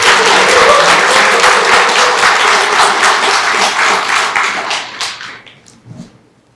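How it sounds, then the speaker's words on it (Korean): An audience gives loud, dense applause to welcome a lecturer at a 2023 year-end special lecture. The clapping is sustained and close, then tapers off quickly into quiet near the end. "여러분 큰 박수로 환영해 주시면 감사하겠습니다."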